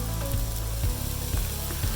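Pre-cooked potatoes fry in a very hot pan, a loud, close, continuous sizzle with a few soft rhythmic scrapes or knocks beneath it and no voices.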